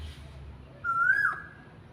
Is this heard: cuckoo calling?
yes